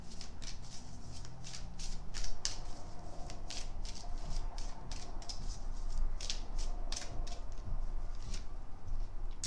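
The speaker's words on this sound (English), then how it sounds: "we will grab an angel guide card to round out this reading" Angel guide oracle cards handled and shuffled close by: soft papery flicks and riffles in a steady, quick patter over a low background hiss, with no talking.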